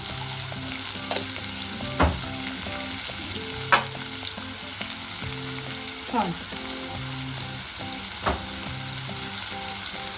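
Snake gourd cooking with turmeric in a pan, frying with a continuous sizzle while a spoon scrapes and taps the pan every couple of seconds, close and steady with no voices.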